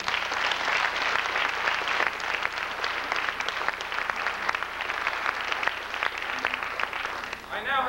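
Sustained round of applause from a large banquet audience at a 1996 evening event honoring Mario Cuomo, dense steady clapping filling the room for the full length, with faint voices mixed in beneath it.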